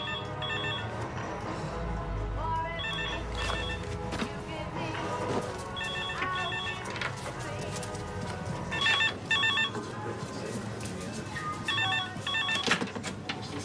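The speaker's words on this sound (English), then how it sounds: "Phone!" A telephone rings in repeated short bursts in a busy domestic scene, heard over clatter and background noise.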